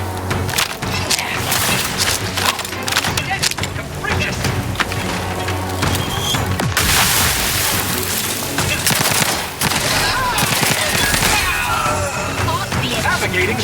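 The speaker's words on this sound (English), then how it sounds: "Grenade outbound!" Gunfire and explosions in the video game The Outer Worlds 2 after a grenade is thrown: dense rapid shots, cracks and blasts crowd the scene, loud and close, with game dialogue mixed in.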